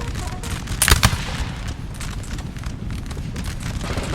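Janissary grenadiers fire muskets from a slope in Napoleon Total War during the Battle of Abukir of 1799: a couple of sharp shots stand out over a dense, continuous din of distant battlefield gunfire and clatter.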